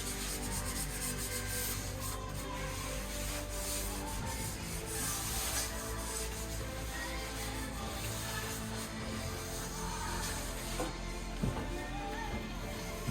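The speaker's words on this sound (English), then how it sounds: "So we're gonna sand everything down" Painted kitchen cabinets being sanded down between coats of white paint, a steady, close, dense scraping rasp that runs continuously without pause throughout.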